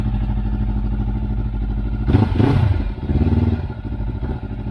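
A collector's motorcycle engine idles with a steady throb, then revs up sharply in a couple of loud bursts before settling back, heard close and alone.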